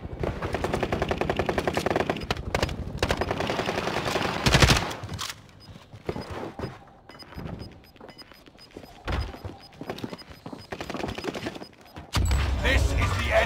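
Gunfire in the battle royale game Warzone, including an NZ-41 rifle, comes in scattered bursts and single shots with a few heavy thumps, loud and close in places and quieter elsewhere, over a steady game background.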